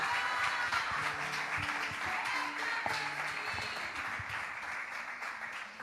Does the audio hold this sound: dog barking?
no